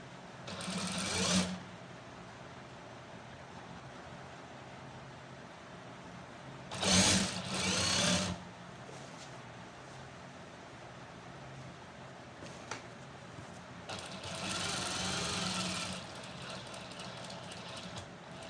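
A tailor's sewing machine stitches a buckram strip in three short, close, steady runs, separated by quiet pauses.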